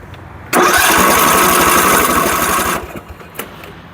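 A balky engine cranks over: a loud, steady whirring churn starts abruptly and runs for about two seconds before cutting off, leaving faint clicks and rustle behind.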